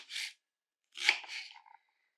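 A knife chops shallots on a cutting board in two brief, crisp bursts of cutting with a short pause between, close and fairly quiet.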